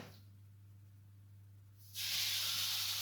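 Steak searing in a very hot pan, with a low steady hum at first, then a loud sudden burst of sizzling hiss that continues strongly to the end.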